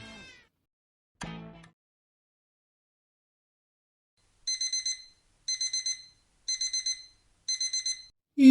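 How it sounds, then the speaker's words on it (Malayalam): An alarm clock set for one o'clock goes off with four evenly spaced bursts of rapid electronic beeping, loud and close, after a few brief vocal sounds. "1 മണിക്ക് അലാറം വെച്ചിട്ടുണ്ട്"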